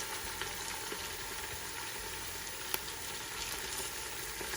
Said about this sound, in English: I'm just going to fry it for a little while.